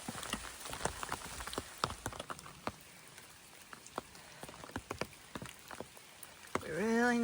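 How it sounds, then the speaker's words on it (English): Light rain patters in scattered drops on a hard surface nearby on a hiking trail in the Laurel Highlands, irregular taps over quiet background, ending with a brief louder whirring sound. "Looks like the rain's letting up a little bit."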